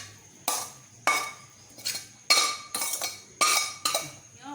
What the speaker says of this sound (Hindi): अब इन्हें अपनी सब्जियां मिलाते हैं। ये देखिए अपनी सब्ज़ी मैं इसमें डाल रही हूँ।